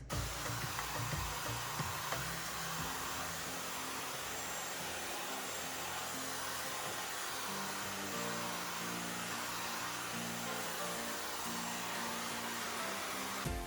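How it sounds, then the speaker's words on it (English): A hair dryer fitted with a diffuser blows continuously at close range while drying curly hair, a steady loud roar with a low motor hum throughout. "you can take the diffuser and use the diffuser from the ends of the hair up to the roots"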